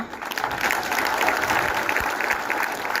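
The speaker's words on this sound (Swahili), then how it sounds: "So tupigieni governor makofi." A crowd applauds for the governor at a rally in Murang'a, dense continuous clapping close by for about three seconds with no pauses.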